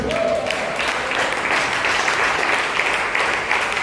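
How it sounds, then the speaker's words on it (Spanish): A church audience in Cancún applauds steadily, a dense wash of many hands clapping throughout, with a brief tonal sound near the start. "Den un aplauso al Rey en esta noche"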